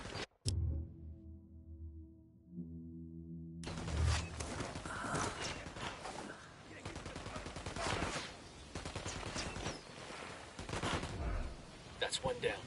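Rapid gunfire bursts in the video game Predator: Hunting Grounds crackle loudly and continuously after a quiet tonal opening, with sustained automatic fire and scattered shots.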